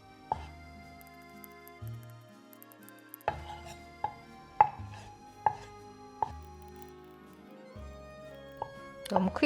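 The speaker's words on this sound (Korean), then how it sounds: "표고버섯 착 다 한 거예요" Shiitake mushrooms being chopped with a knife on a cutting board, a series of crisp, close knocks at an uneven pace, some in quick pairs, with faint kitchen tones ringing between strikes.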